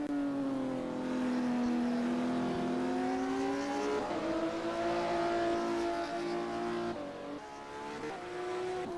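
A classic Porsche Cup race car in a racing simulator drifting around a track, its engine holding a loud, steady high-revving whine that dips and climbs through gear changes, with no talking.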